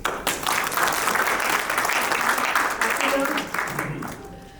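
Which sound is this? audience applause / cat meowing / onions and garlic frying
audience applause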